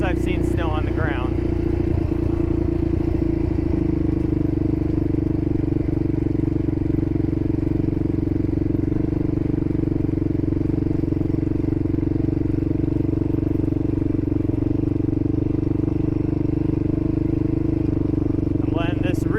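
Steady ATV engine drone on a snowy mountain trail with engine braking holding the machine back, loud and continuous throughout, with brief clattering near the start and end and a voice talking faintly over it.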